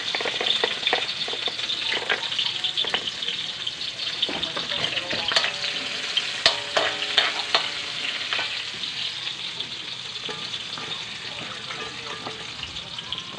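Aromatics for pancit canton sauté in a pan with a continuous bright sizzle, broken by frequent sharp clicks and scrapes of a utensil stirring, and no talking.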